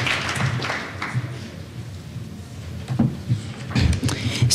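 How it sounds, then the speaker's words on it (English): An audience at a student competition applauds in a steady, broad wash of clapping that swells near the end, with a few voices mixed in. "I've been told that you can now clap."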